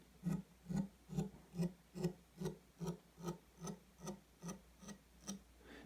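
Sharpened knife edge with a burr being rubbed, a series of about thirteen soft, evenly spaced raspy strokes, close and quiet, slowly fading in strength.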